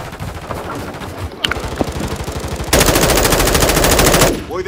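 Sustained machine gun fire in the Call of Duty video game, rapid bursts that grow louder and denser midway before cutting off near the end.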